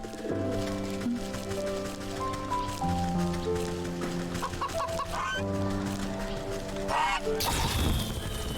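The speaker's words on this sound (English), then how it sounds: "The poor chicken." A chicken clucks in the video game Wytchwood, with short bird calls over a steady tonal game music backdrop, followed by a sharper burst near the end.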